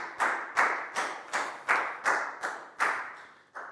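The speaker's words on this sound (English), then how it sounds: "high five and a big round of applause for Net, please, guys." A classroom of young pupils claps for a classmate in an English lesson, about nine loud, close, evenly spaced claps in steady rhythm, with no talking.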